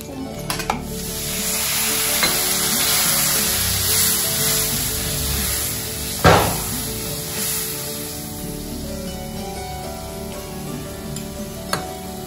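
Cumin and masala spices hitting hot oil for egg curry, a loud continuous sizzle and crackle with stirring scrapes and a sharp spatter burst midway, with no talking.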